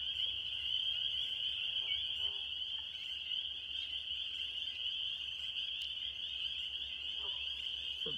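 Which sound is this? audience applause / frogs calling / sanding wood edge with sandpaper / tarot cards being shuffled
frogs calling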